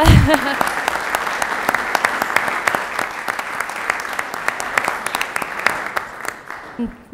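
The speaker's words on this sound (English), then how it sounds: "that deserves a clap" A council meeting audience in Elmhurst claps after a fundraising total is announced. The applause is loud and continuous with crisp individual claps, starting after a brief voice and dying away in the last second.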